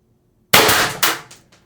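A Pistelle X-68 CO2 air pistol running a 12-gram CO2 cartridge, 4.5-inch barrel and MCS Reaper suppressor fires a sharp, close report, then a second quick pop follows as it briefly auto-fires, the hiss trailing off afterward.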